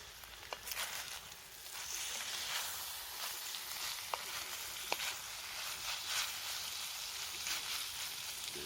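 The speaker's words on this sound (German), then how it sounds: "So, da brutzelt schön der Bacon." Bacon sizzles steadily in a pan over an outdoor campfire, a dense continuous crackle with occasional sharp pops, heard alone without talk.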